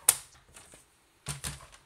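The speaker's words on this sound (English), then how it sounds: "we're going to score that to get a fold mark there" Paper being scored with a tool to make a fold mark, a few short dry scraping taps in two quick clusters separated by a pause, close and fairly quiet.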